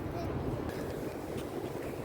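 Strong wind blows across a high hilltop, a loud, continuous buffeting rumble right at the microphone with no break.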